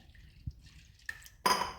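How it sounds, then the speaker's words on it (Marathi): A glass of water is poured into a pan of spinach and moong dal. The quiet liquid sound ends in a brief splash. "1 ग्लास पाणी टाकणार"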